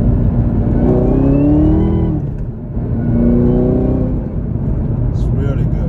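A 2018 Chevy Camaro ZL1 engine revs up loudly twice in close succession, each pull climbing in pitch before falling away, with a brief dip in between.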